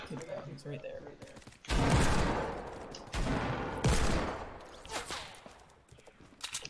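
Rapid bursts of gunfire in the video game Fortnite, loud and close, coming in a dense volley followed by a second spell of shooting, with a little game noise between the bursts.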